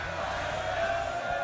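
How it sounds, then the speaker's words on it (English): A crowd at a fighting-game esports finals day roars steadily and loudly throughout, a dense wash of cheering voices with no clear break. "Crowd's getting loud."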